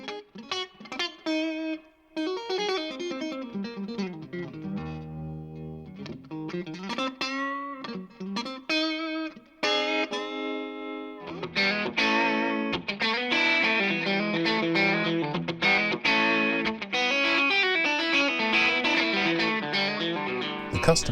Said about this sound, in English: Onboard reverb adds depth and dimension to every tone the Custom Series has to offer.